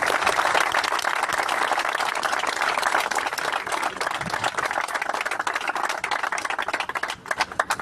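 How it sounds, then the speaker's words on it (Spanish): Crowd applauding at a union gathering, sustained brisk clapping from many people that breaks up into more scattered individual claps near the end. "les pedimos un aplauso para ellos"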